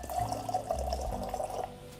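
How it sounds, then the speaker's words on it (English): Bourbon whiskey being poured into a tasting glass, a short close liquid trickle with a gurgling ringing tone that fades near the end. "Just gonna pour a quick 1/4 ounce, never more than that for one of my tastings."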